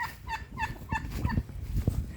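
Leghorn hens in a backyard flock cluck in a quick series of about five bright, evenly spaced calls, close by over a rumbling, noisy outdoor background.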